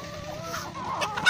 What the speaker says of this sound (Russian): Вот куры дерутся.